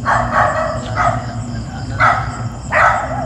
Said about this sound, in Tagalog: kadungog mo mga iro nga magtahol